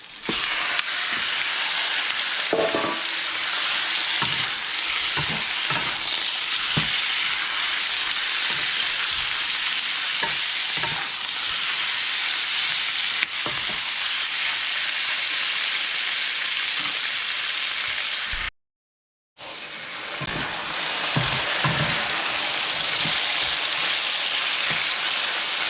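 Beef for beef pares frying in a pan and being stirred, a steady close sizzle with scraping stir clicks throughout, broken by a brief silent gap near the end, with no talking.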